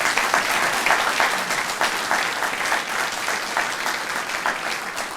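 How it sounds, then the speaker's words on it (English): Audience at a university president's retirement ceremony applauding, dense sustained clapping from a large crowd indoors that slowly fades slightly over several seconds. "So let's give them all a big round of applause."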